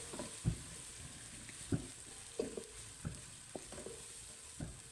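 Ginger, garlic and green chili paste fries with onion paste in a pan, a faint steady sizzle broken by about seven soft stirring scrapes spaced roughly a second apart.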